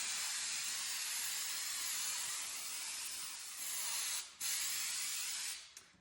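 Aerosol glue for Trim-Tex vinyl corner bead sprays in a steady, close, loud hiss for several seconds, with two brief pauses near the end and no talking.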